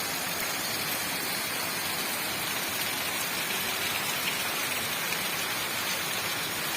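Steady rain pours in Kannur, Kerala, a dense, even hiss of falling water on surfaces, continuous and fairly loud with no voices.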